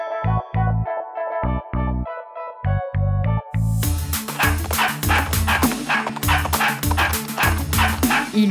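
Playful dog barks form part of a French children's farm song, first as short yips between bright musical notes, then as repeated barks over full, busy backing music.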